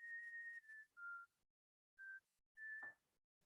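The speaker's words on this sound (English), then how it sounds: "Who's whistling?" A short whistled tune in the video game Omori: a few clear, steady notes in separate bursts, with brief pauses between them, heard alone.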